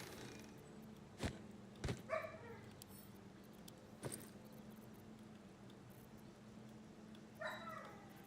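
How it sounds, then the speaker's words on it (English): A Husky Shepherd mix dog indoors gives a few short, faint yips and whimpers at irregular intervals over a quiet steady background hum. "My friend's dog is a Husky Shepherd mix."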